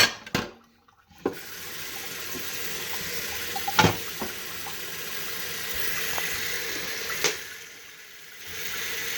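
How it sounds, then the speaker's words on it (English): A skillet crusted with caramelized potatoes from the night before is scrubbed under a running kitchen tap, water rushing steadily into the sink with a few sharp clanks of the pan against it and brief pauses. "Remember to clean your skillet from the night previous."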